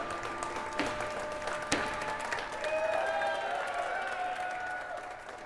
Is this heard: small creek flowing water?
no